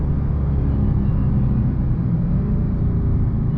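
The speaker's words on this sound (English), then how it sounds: "While I'm thinking, I'll let y'all hear this Supercharger for a minute." Supercharged engine of a 2020 Dodge Charger SRT Hellcat Widebody, a loud, steady, deep rumbling drone heard from inside the car, continuous throughout with no change in pitch.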